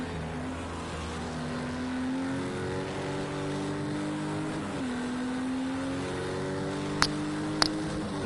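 Race car engines in a multi-class enduro race, a continuous mid-distance drone with shifting pitch as cars hold speed, fairly faint, with two sharp clicks near the end and no talking.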